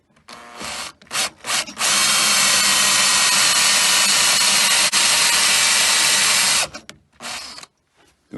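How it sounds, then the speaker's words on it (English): A power drill bores holes in beech wood using a jig; a loud, sustained whine for several seconds, bracketed by short starts and stops. "to drill all the bits that I need."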